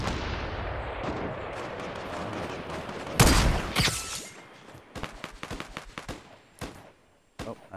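Gunfire from the video game Fortnite, several sharp shots and bursts spread unevenly after a stretch of loud rumbling game noise, some close and punchy, with quieter gaps in between.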